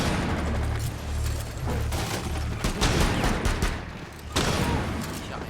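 Rapid gunfire crackles through a Rainbow Six Siege firefight, a dense run of sharp shots stacked over a low rumbling bed, with a brief lull near the end before the shooting picks up again.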